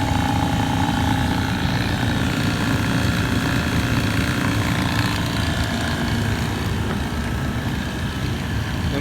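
Blue Vac Pro vacuum pump running on an LG Multi V inverter VRF HVAC system with its exhaust port removed, a steady loud mechanical drone with a constant buzzing hum, unchanging throughout.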